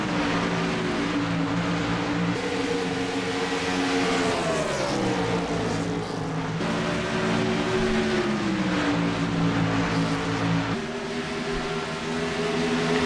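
Race cars roar around a track during a broadcast race, a steady, loud engine drone with pitch sweeps as cars accelerate and pass nearby.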